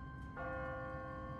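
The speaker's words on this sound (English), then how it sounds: "What kind of church bell goes off at 20 past the hour?" An automatic church bell on a timer rings in a deserted city in The Walking Dead video game, a sustained metallic tone that strikes and hangs steadily over a low background rumble.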